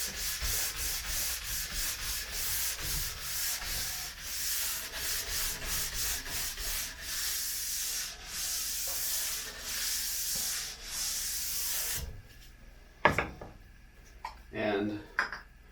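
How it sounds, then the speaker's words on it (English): A white nylon brush scrubs an alpine ski base after glide cleaner in quick, rhythmic strokes, bright scratchy rubs repeated for about twelve seconds, then a few faint knocks and handling sounds. "we're going to take our white nylon brush and brush that out."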